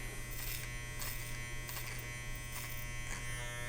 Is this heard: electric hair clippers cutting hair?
yes